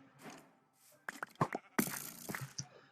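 A Minecraft sheep gives a few short bleats in the game, spread across the moment alongside light in-game stepping noises and fairly quiet overall.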